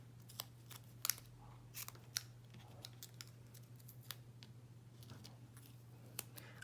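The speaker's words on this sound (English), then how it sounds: "So I'm going to cut some pieces of foam here." Scissors snip through foam tape pieces for a handmade card in a quiet room, giving a series of sharp, close clicks spaced irregularly over a faint steady hum.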